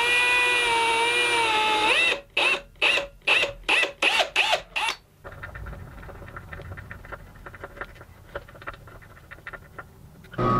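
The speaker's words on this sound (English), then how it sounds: "Give me a nice little divot right where I need to drill." A power drill whines steadily into wood while building a cabinet, then sputters in a string of short, rapid bursts before falling quiet, leaving only light handling noises.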